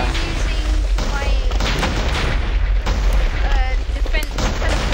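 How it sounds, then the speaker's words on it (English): Wither heads fired in Minecraft burst in a dense, loud series of booming explosions that overlap and repeat without pause, with excited voices talking over them. "Sorry about all the explosion possible lag. I'm just firing wither heads everywhere."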